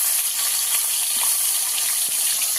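Chopped tomatoes sizzling in hot fish oil with black cumin seeds, a steady bright hiss with faint pops and crackles close up, no talking.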